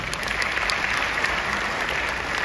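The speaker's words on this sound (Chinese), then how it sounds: "给他们一个掌声。" An audience at a talk breaks into applause. The clapping is dense, even and sustained, filling the whole stretch at a steady level with no voices over it.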